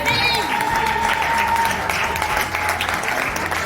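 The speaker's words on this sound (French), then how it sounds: "aidez-moi à accueillir Madame Dalia Mboya Manikunda sous vos applaudissements" Sustained audience applause welcoming Madame Dalia Mboya Manikunda at an event, steady and loud throughout, with a faint tonal whistle or feedback line and voices mixed into the clapping.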